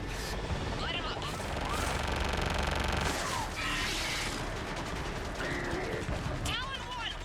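Weapons firing during a combat sequence in Mass Effect 3, continuous rattling bursts and booms layered with radio-style voices and whistling effects, dense and loud throughout.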